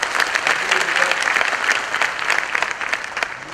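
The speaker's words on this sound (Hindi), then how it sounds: "उनके लिए बहुत जोरदार तालियां बजाइए।" An audience claps loudly at a Lucknow success day event, a dense sustained round of applause filling the whole stretch.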